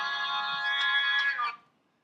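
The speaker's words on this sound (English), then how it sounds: "There's my phone." A mobile phone rings with a bright, melodic electronic ringtone that plays steadily and fairly close for about a second and a half, then cuts off into silence, with no talk over it.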